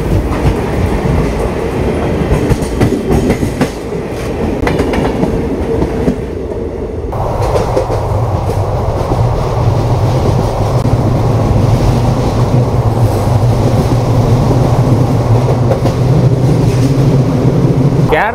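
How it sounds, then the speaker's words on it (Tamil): Trivandrum–Kannur Jan Shatabdi express passing through on the main line without stopping, a loud rushing roar with rhythmic wheel clatter over rail joints, close by and sustained, heard alone. "இங்கே வந்து உங்களுக்கு ட்ரிவாண்ட்ரம் கண்ணூர் ஜன்சதாப்தி வந்துக்கிட்டு இருக்குது"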